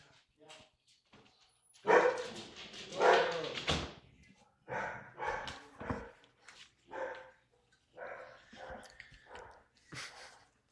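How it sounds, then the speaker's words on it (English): A pet dog barks and whimpers inside a room, in short, fairly close bursts scattered through the stretch, mixed with some talking. "I'm gonna let my dog out so she stops."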